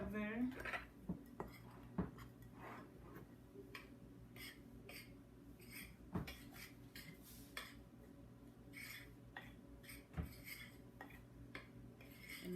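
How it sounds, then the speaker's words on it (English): A spoon stirs dry breading ingredients, flour with baking powder, in a bowl for a copycat spicy chicken sandwich, giving repeated close clinks and scrapes against the bowl at an uneven rhythm with no talking. "we're going to stir all that together"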